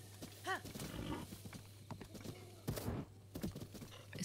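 Horse hooves clip-clopping in the video game Breath of the Wild, a steady trot of hoof beats with a short whinny early on, a few louder thumps midway and a low hum underneath.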